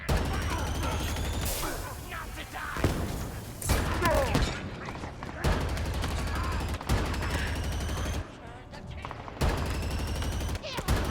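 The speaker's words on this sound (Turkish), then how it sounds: "Bu silah efsane vuruyor ya" Rapid bursts of weapon gunfire in the Halo Infinite video game, several loud volleys broken by short gaps over about eleven seconds, with booming impacts and mechanical clatter mixed in.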